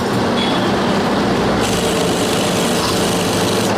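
Industrial sewing machine stitching a garment seam in a garment workshop, a steady loud mechanical whir running throughout with no talk.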